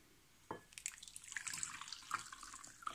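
Hot water runs and splashes into a container of sea salt with a sudden start, a steady trickling pour with small drips and bubbling, close by and fairly quiet.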